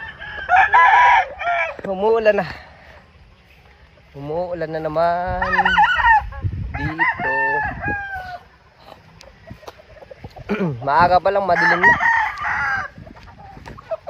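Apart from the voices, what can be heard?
chickens clucking and roosters crowing on a farm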